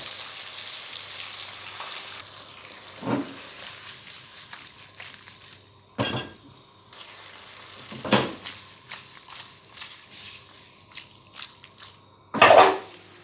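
Fresh tomatoes frying in a pan for spaghetti sauce, giving a steady soft sizzle with occasional louder stirring scrapes and clatters throughout.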